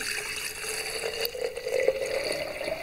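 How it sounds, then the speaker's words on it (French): Water pours into a pot of homemade cold-process soap, a short, continuous trickling splash heard alone at close range. "J'ajoute de l'eau"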